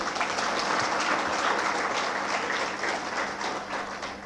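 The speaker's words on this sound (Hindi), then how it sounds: "हमारे बॉस के लिए जोरदार से तालियां बजाएंगे आप सभी लोग" A seated crowd at a meditation center bursts into dense, continuous applause, the even wash of many hands clapping close by and steady for several seconds with no talk.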